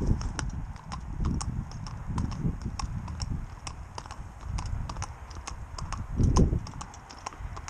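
A horse in training walks on, its hooves making a steady, fairly close clip-clop rhythm with crisp, evenly spaced strikes, heard alone with no talking.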